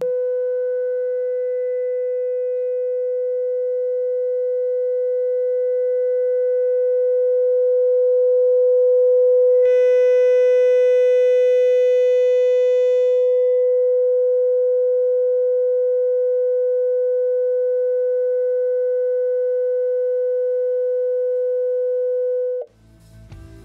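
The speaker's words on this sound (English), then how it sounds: "the received signal showed no frequency shift but remained at 500 Hz" A received test tone played back after passing through a gas-filled tube holds steady and loud for over twenty seconds, swelling slightly and briefly gaining a brighter edge midway before stopping abruptly with a short clunk.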